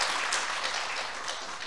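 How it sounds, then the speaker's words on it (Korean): A church congregation applauds at a Sunday worship service, a steady wash of clapping that holds evenly for under two seconds with no voices over it. "우리 박수로 우리 축하하겠습니다"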